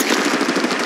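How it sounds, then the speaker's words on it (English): Rapid automatic gunfire from an Apex Legends Mobile battle royale match, a dense continuous burst of shots filling the short moment at steady loudness. "Shots coming!"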